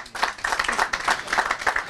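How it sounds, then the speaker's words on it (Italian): Lively applause from an audience at an Italian football club's season presentation, a dense run of close handclaps that carries on without a pause. "Thomas Lepri, un applauso anche per lui."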